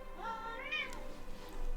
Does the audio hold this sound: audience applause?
no